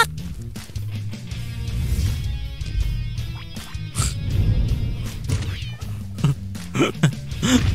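A cat in a fantasy RPG meows several times over a busy game soundtrack, the calls rising and falling among clacks and thuds, fairly close and moderately loud.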